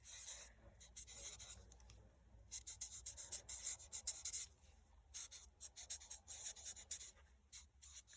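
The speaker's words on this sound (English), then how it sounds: "I'm going to write that down" A pen writes out a number during a children's maths lesson, with soft broken scratching strokes that come in short bursts, close and fairly quiet, over a faint low room hum.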